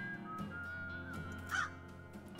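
A pet crow in the video game West of Loathing gives a single clear caw over a soft, steady game music bed, fairly quiet overall.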